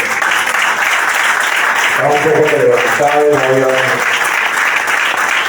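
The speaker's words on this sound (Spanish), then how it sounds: "Y damos un aplauso a nuestro hermano" A church congregation breaks into applause for a brother in the faith, a loud wash of many clapping hands that swells in the middle while a voice speaks over it.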